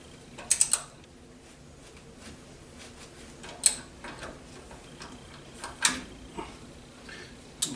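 A torque wrench tightens the wheel hub bolts on a 2002 Ford Explorer. Sharp ratcheting clicks come in short scattered clusters, close and moderately loud, with quiet pauses between them.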